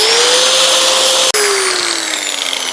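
A power wire brush grinds on car front brake parts from a Proton Impian, a loud, continuous high whine with a steady tone that dips briefly once midway, then runs on unbroken.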